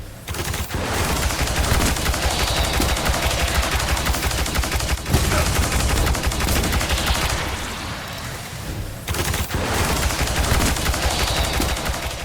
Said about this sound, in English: this weapon has a very cool firing sound